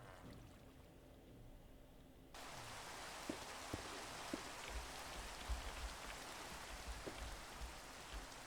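Steady rain pours down in the Minecraft video game, a dense, even hiss that swells after a quieter start, with scattered small drips and taps, no voices.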